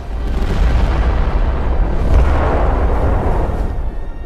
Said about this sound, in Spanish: La explosión partió la popa del barco.